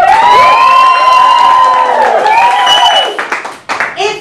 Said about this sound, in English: to go forward for the vacancy of Sarah, please applaud and whoop now.